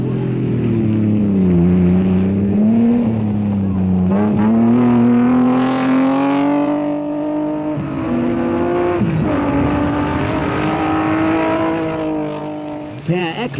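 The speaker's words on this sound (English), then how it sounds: "Shekhar Mehta shows off the Nissan in its first major appearance" A Nissan rally car competing in the 1987 Safari Rally, its engine droning loud and close with a pitch that rises and falls steadily as it drives, sustained throughout with no break.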